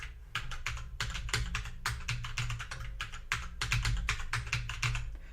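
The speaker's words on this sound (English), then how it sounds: "then we enter a password. Preferably one I can type correctly." Rapid computer keyboard keystrokes typing a password, a steady run of crisp clicks with brief pauses, close and fairly loud, with a low hum underneath and no talking.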